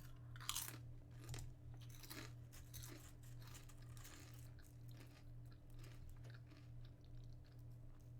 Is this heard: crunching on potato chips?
yes